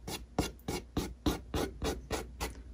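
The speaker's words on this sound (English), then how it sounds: "So I'll do the initial scrape here, and then I'll move to the 320 just to smooth it out." A guitar thumbpick is scraped in about nine quick, even strokes, loud and close, each a short rasping pass, with no voice.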